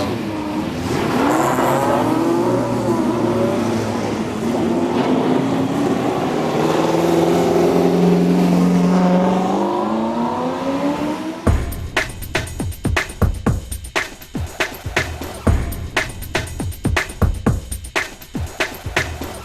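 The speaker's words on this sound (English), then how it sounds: "Drivers, start your engines." Race car engines at the Phillip Island 6 Hour race: a long loud throaty drone with rising revs, then engines fire up into sharp choppy bursts and blips of revving near and loud, no talking.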